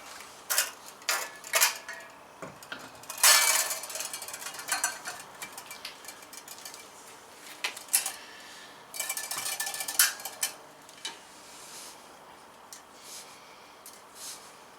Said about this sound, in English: let's set the tank in there and see if we can't get it fastened down